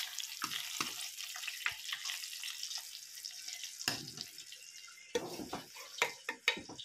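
Pork sizzling as it fries in a pan at home, a soft steady hiss with scattered sharper spatters and a few clanks, close and moderately quiet, with no talking.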